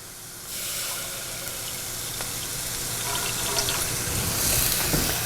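One cup of water being poured, a steady hissing rush that swells gradually over several seconds, close and alone with no speech.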